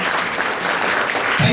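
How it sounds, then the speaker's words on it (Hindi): An audience at a health and wealth awareness program claps loudly and continuously at a rank-achievement presentation, a brief, thick burst of applause with a low thump at the end. "तालियां जोर से बजा लीजिए"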